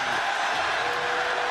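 A large arena crowd at a Pride mixed martial arts event roars and jeers after a referee stoppage, a dense, loud and steady wall of voices with no pauses.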